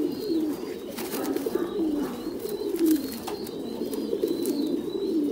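Thai Titan meat pigeons coo in a breeding farm loft, low rolling coos repeating steadily over a faint background of other birds, fairly close and without talk.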